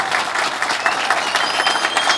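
A crowd at a campaign closing rally claps steadily, dense and loud applause that holds throughout with no voices over it.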